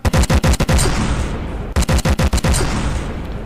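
Custom-built cannons in the naval combat game From The Depths fire rapid volleys of explosive shells, loud sharp bangs in two bursts of quick successive shots with rumbling booms and no talk.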